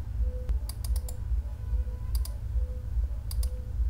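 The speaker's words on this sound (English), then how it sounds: "Now type your search description." Computer keyboard typing comes in a few short, quick bursts of light clicking keystrokes over a low background hum, with pauses between bursts and no voices.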